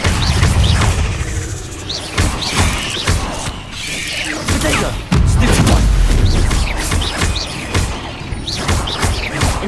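Incendio fire spells cast in Hogwarts Legacy, heard as several loud whooshing bursts and crashing impacts spaced through the clip amid other spell effects.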